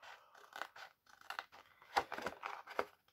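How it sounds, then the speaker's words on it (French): Scissors snip through a piece of cardboard along a rounded pencil line, a series of close, crisp crunching cuts in uneven rhythm. "on va découper la partie arrondie en suivant à peu près"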